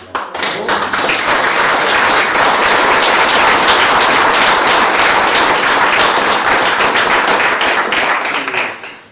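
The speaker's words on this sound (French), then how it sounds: "Merci beaucoup pour l'applaudissement" Sustained, dense applause fills a town council meeting in Saint-Alban, loud and steady throughout before tapering off at the end.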